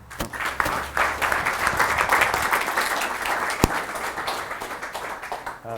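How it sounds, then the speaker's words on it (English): Sustained audience applause at a SwiftConf 2016 iOS developer conference talk, steady dense clapping from a large crowd lasting several seconds without speech. "So give him a round of applause."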